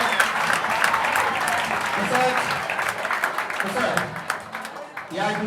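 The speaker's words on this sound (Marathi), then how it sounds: "टाळ्या वाजवून त्या ठिकाणी स्वागत करायचं" An audience at a talent hunt prize distribution applauds to welcome the principal, a dense sustained burst of clapping filling the hall, with talk heard under it.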